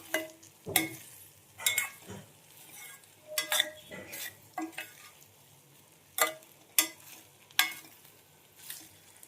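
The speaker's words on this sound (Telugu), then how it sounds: "ఈ మసాలా అంతా రైస్కి పట్టేలాగా ఒకసారి బాగా కలపండి" Capsicum masala rice stirred in a pan on a low flame, scattered spoon scrapes and light clinks against the metal with a faint sizzle, quiet gaps between strokes.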